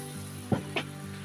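Puris frying in hot oil in a home kitchen, cooked for a mango-pulp (aamras) and puri meal. A low steady sizzle runs throughout, with two brief louder bursts of crackling as the dough hits the oil.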